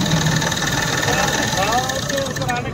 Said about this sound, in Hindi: गाड़ी हाफ सेल में स्टार्ट है फ्रेंड्स, कोई प्रॉब्लम नहीं है